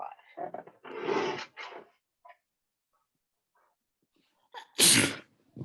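A single sharp sneeze rings out near the end, preceded by a short stretch of someone talking and a quiet pause.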